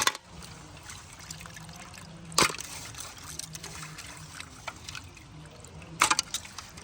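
Fish are washed in water with faint trickling and splashing, a couple of sharper sloshes standing out against a quiet background, close by and without talk.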